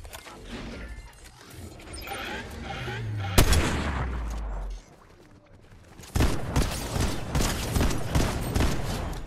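Fortnite gunshots crack in a quick rapid string near the end, after clanking mechanical game sounds and a heavy impact, with a voice talking faintly.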